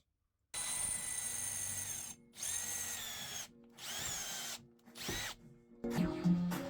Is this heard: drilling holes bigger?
yes